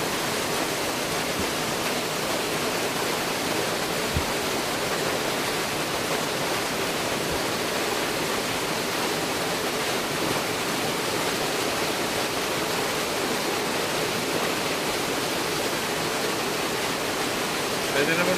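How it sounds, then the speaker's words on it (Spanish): A waterfall pours steadily into a pool along a mountain road, giving a dense, continuous rushing roar close by with no breaks. "podemos disfrutar de esta bonita cascada y este bonito pozo"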